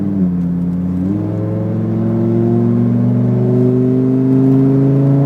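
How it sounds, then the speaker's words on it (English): A Lamborghini STO accelerates hard on a race track, its loud, close engine holding a steady roaring drone whose pitch climbs continuously after a brief shift, with no talking. "squeeze the throttle, and accelerate now, straight through"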